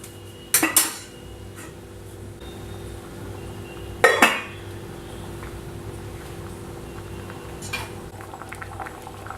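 Metal pots and utensils clank in two sharp, loud bursts and one fainter clink during cooking of tomato kurma, with a quiet simmering background and no talk.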